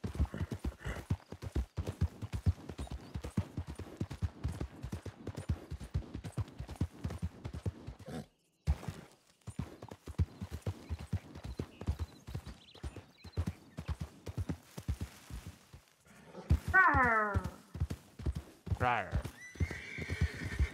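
Horse hooves clip-clop in a steady rhythm in a ranch role-play video game while a horse neighs loudly near the end, with people talking over much of it.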